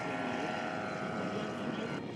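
A steady, droning propeller engine hum from a Savannah STOL light aircraft landing in a flight simulator game. The drone is loud and continuous throughout and eases off slightly at the very end.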